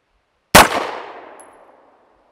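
A single sharp pistol shot cracks close by and loud, its report decaying over about a second and a half with no talking.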